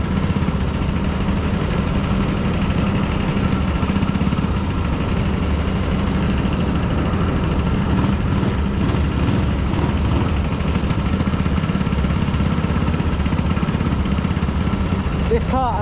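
A small kart engine drones steadily at close range, a buzzy continuous idle-like rumble with no clear revving, running throughout.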